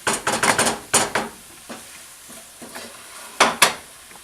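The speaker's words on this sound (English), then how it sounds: "we got our mushrooms nice and sauteed here with our onions and garlic, so I'm going to add them now to our Marsala sauce" Sautéed mushrooms, onions and garlic being stirred into a Marsala sauce for chicken Marsala, with a run of close scraping and stirring strokes in the first second and a half, a quieter stretch, then two more firm stirs near the end.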